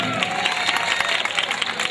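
An audience at a Malayalam comedy stage show claps and cheers in a dense, continuous burst, filling the hall for a couple of seconds.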